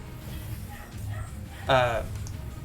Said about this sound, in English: I like how you can hear the puppy in the background